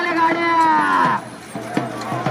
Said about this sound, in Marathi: बैल आलेला आहे बघा, भेंडा बैल.